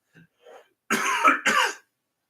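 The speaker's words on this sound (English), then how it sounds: "you can tell I'm starting to get the cough now" A couple of faint throat sounds, then two loud, close, raspy coughs in quick succession, followed by silence.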